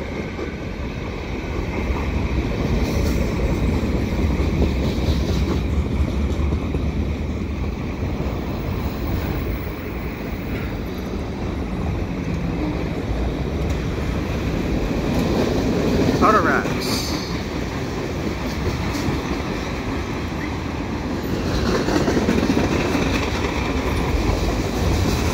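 A CN freight train with bathtub gondola cars rolls past at St Jacques overpass, a continuous rumbling roar with rhythmic wheel clatter and a squeal midway, with faint talk underneath.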